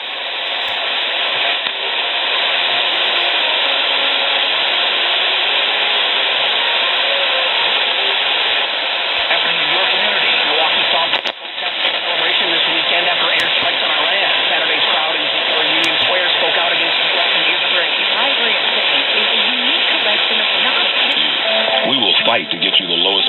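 A LITEMALADSP MLite-880 shortwave SDR radio tuned to an AM broadcast: a voice talking steadily through a narrow, tinny, hissy channel, with faint static crackle underneath throughout.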